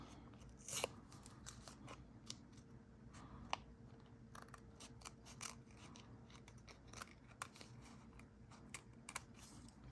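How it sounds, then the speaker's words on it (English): Repeated crisp snips and crunches of scissors cutting paper, irregular and close, over a steady low background hum with no talking. "And I'm doing that with my scissors."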